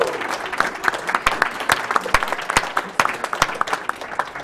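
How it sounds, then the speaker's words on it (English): A crowd applauds steadily at a speedrunning charity marathon, with sharp individual claps standing out against the dense clapping throughout. "give everyone who is battling cancer right now an encouraging round of applause"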